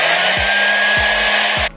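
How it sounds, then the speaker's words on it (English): A blow dryer runs steadily at close range, drying freshly applied eyeliner, with a constant airy whoosh and a faint hum that cuts off abruptly at the end. "always have a blow dryer at the ready"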